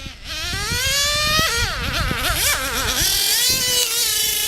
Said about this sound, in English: You can hear it running out of fuel.